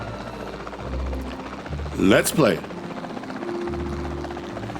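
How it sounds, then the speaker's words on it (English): Helicopter rotor chop from the video game Jurassic World Evolution 2, a steady whirring drone running throughout and rising to a louder pass in the middle, with a voice speaking briefly over it. "We'll be using the helicopter to tranquilize them."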